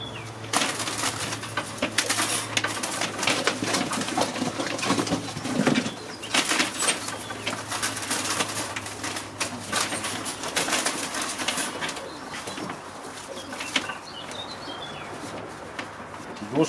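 Racing pigeons in a loft coo and stir with soft wing flutters, a busy layered murmur that carries on steadily, with a faint voice in the background.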